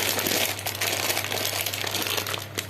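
Plastic bag of macaroni being crinkled in a home kitchen before the pasta is fried in oil, a steady close crackling rustle lasting the whole stretch with no talk.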